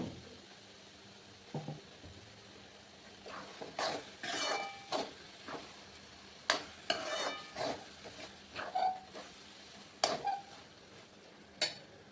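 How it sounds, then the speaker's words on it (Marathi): A coarse paste is roasted in masala and stirred in a pan: quiet scraping and clattering strokes of a spoon against the vessel come in irregular bursts over a soft background sizzle. "चला तर या मसाल्यामध्ये याला चांगलं भाजून घ्यायचं आहे"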